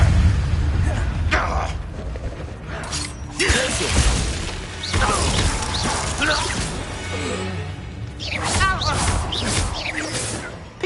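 Confringo blasting spell explosions in Hogwarts Legacy, with several bursts, crashes and debris clatter over low rumbling game noise, loud and close.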